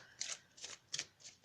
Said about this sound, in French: On va tirer maintenant une carte des maîtres ascensionnés.